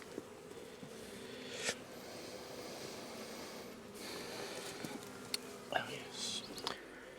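Honey bees hum in an open hive during an inspection on a farm, a faint, steady buzzing drone with occasional louder passes, with soft rustles and a quiet voice.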